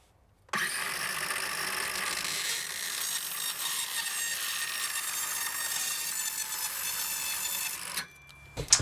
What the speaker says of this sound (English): Let's cut this top, oh, 1/2 inch or so off, so it actually fits in that little gap